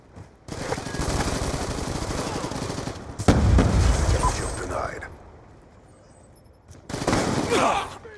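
Gunfire in Call of Duty: Black Ops 2 multiplayer, loud stretches of rapid shots with a heavy blast near the middle, fading to quiet before another burst near the end, with a player speaking over it.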